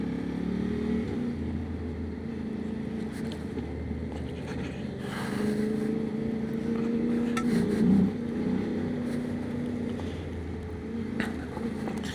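Motorcycles ride a mountain road through a pass in the Stara Planina range, their engines droning steadily and rising slightly as they accelerate, with wind noise and no talk.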